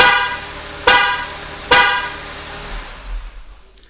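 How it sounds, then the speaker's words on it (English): A 2018–2021 Jeep Grand Cherokee sounds its horn during a remote start, with two short, loud honks about a second apart, followed by a quiet hum of the running vehicle. "Now we're going to have one more honk."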